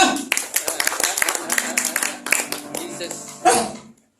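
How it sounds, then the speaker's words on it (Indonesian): A church congregation claps hands together, a burst of sharp, quick claps mixed with voices and a held musical tone, swelling again near the end before fading out. "Tepuk tangan dulu lah."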